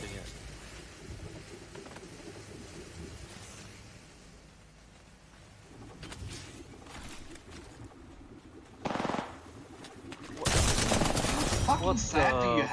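Gunfire in the video game Apex Legends comes as scattered faint shots under a low rumble, then a loud burst and a heavy, sustained volley near the end.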